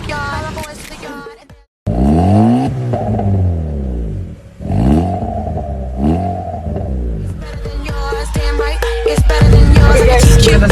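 Honda Brio fitted with an NDK DK 03 V3 exhaust, a sequence of rising engine revs sweeping upward, throaty and loud, broken by short pauses, with a song playing at the start and end.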